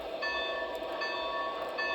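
A Lionel Legacy model train engine's electronic whistle and bell sound steadily, a tonal toot with faint repeating chimes, close and continuous.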